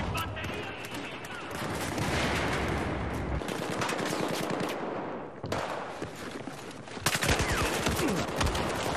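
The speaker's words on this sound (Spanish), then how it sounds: "¡Granada va!" Battlefield 4 infantry combat: a sustained barrage of heavy gunfire and blasts, dense and loud throughout, with sharp bursts of cracking shots near the end; no clear single grenade stands out from the din.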